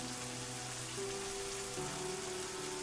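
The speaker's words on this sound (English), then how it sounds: "Beneath the percussive drumming of the rain, you can hear the drainage." Steady rain drums on the weathered stone of the Angkor temples at night, a dense even hiss with a low hum running beneath it and no voices.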